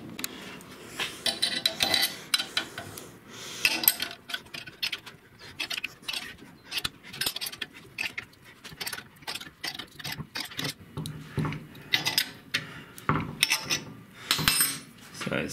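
An end wrench and other metal tools clink and rattle while being picked up and handled during a Toyota Tacoma lift kit install with add-a-leafs, producing many irregular close metallic clicks and taps with no talk.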